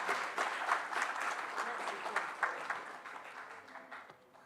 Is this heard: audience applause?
yes